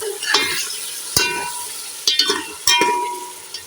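Chicken being pan-roasted with masala, loud close sizzling broken by several sharp spatula scrapes and knocks against the pot, no voices.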